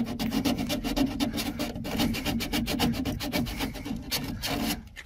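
Hand scraping of ABS pool pipe gives a steady, rough rasping that runs nonstop at close range with an even rhythm of strokes and no talk.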